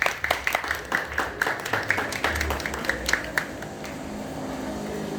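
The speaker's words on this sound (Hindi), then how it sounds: "बजाइए ताली एक बार जोरदार" A gathered audience claps in a brisk burst of sharp, fairly close claps that thin out toward the end, leaving a low background hum.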